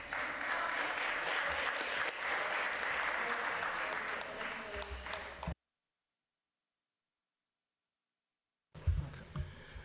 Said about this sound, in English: You could clap, guys